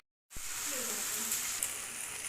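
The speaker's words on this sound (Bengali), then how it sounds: "এখন আদা রসুনটা দেওয়ার পর আবারও ভালোভাবে মশলাটা ভেজে নেওয়া হবে" Spice paste with ginger and garlic frying in hot oil: after a brief silence a sudden hissing sizzle bursts in and holds steady, fairly soft and close, with faint bubbling crackle.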